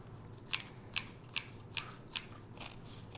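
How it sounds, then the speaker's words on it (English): Scissors snip around the edges of a small craft lawn made of glued-down material: five crisp, evenly spaced cuts close up, followed by a couple of softer snips, in an otherwise quiet room. "Then we can just snip this around the edges."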